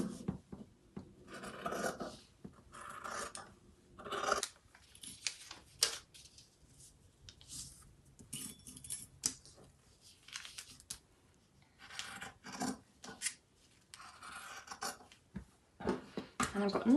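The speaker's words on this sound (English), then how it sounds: "And then from the remaining fabric, I can just cut 4 of these. Use my scissors just for the sake of variety." Fabric is cut with scissors into small pieces for an overlocker cover, close-up snips and rasping scrapes in uneven bursts with pauses, fairly quiet.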